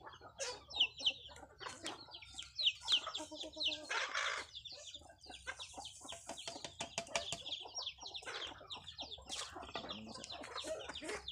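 Several chickens cluck busily at close range, with overlapping calls and sharp, repeated clucks filling the whole stretch.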